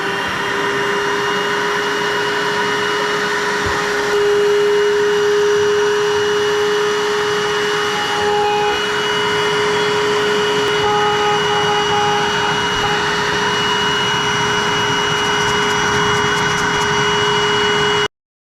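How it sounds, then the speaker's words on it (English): A steady, whining motor drone with a constant high tone runs unbroken throughout from a small handheld Dustbuster vacuum held close. "get my little dust buster vacuum and suck up all these little shillings"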